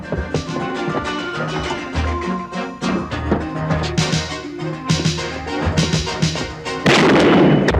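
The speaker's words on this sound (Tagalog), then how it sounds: "Putok ng baril, tara!" Rapid bursts of gunfire crack repeatedly at close range, loud and irregular, ending in a dense wash of noise, in an action film shootout scene.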